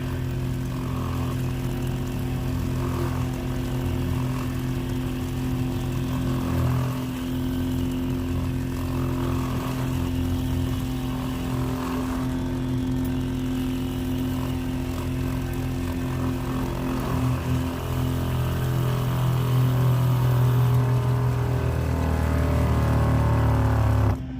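Soft-washing pump priming water through a hose that had been disconnected, a steady mechanical drone with a low motor hum running continuously, close and fairly loud, rising slightly toward the end.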